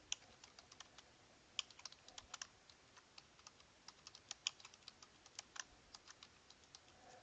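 Quiet, brisk typing on a computer keyboard, an uneven run of light clicky keystrokes with brief pauses, close and soft, no voices.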